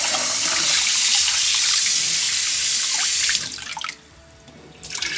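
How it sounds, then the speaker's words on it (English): Broken jasmine rice gets washed thoroughly by hand in water, a loud rushing, sloshing wash that cuts off abruptly near the end before a short swish returns. "So what you want to do, you want to wash it really thoroughly."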